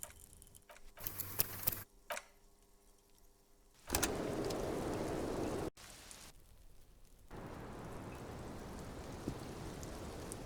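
Rain in the game Disco Elysium, a steady hiss of falling rain broken by abrupt cuts and shifts, with soft ticking in quieter stretches, moderate and continuous without talk.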